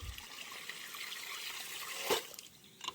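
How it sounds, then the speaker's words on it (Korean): Water flowing steadily in a small stream feeding a non-powered pump, a continuous close trickling rush with a brief splash partway through. "흐르는 물이 있고"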